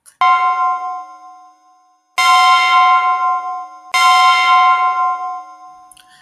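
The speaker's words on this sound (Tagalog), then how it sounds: "Ang tunog ng kampana, hudyat na kailangan na niyang pumasok sa eskwela." A bell rings three times, with clear sustained tones that each fade slowly before the next strike.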